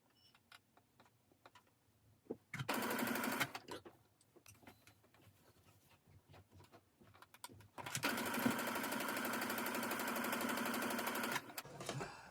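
A sewing machine stitches a fabric mask, running in two sustained bursts with a backstitch, whirring close but at modest volume with quiet handling noises between.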